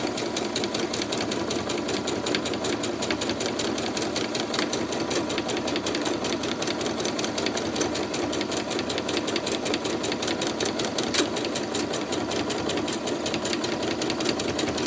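A sewing machine stitching free motion embroidery on layered scrap fabric, a loud, fast, rhythmic needle clatter over a steady motor drone, running continuously and close up with no speech.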